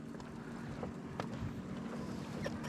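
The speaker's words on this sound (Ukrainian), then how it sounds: "Вже попросиналися ці гонщики на катерах." Motorboats on the Dniester river, a steady low engine drone with wind noise in the background, continuous and fairly distant with a few faint splashes or bumps.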